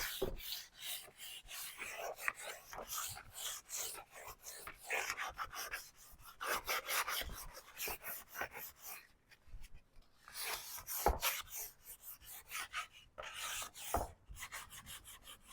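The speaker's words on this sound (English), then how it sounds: "I have some 220 sandpaper. Let's see what chips off." A painted upcycled wreath is hand-sanded with 220 grit sandpaper, giving close, quiet, irregular rubbing and rasping strokes in short bursts with brief pauses, no voices.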